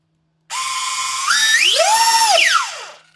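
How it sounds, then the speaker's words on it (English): E-flite UMX A-10 EDF model jet with electric ducted fan motors spinning up on a bench test: a sharp high whine rises in pitch, holds briefly, then winds down over about three seconds, loud and close. "See, both motors are spinning now."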